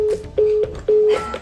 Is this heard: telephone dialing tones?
yes